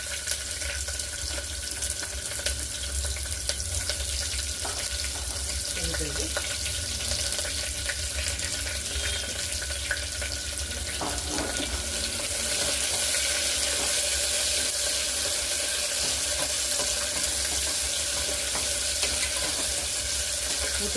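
Sliced onions sizzling in hot oil with mustard seeds and cumin for a vegetable pulao, a continuous close hiss of frying that grows louder and fuller partway through.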